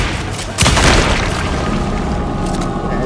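A single heavy, booming shotgun blast in the video game Alan Wake 2, hitting abruptly and then dissolving into a long, loud rumbling tail.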